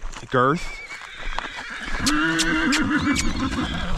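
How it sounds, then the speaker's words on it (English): A stallion gives a short, loud, wavering whinny near the start, followed by a person speaking and faint hoof clatter in the background. "Oh, there's Grand Imagination. My newly crowned world champion stallion."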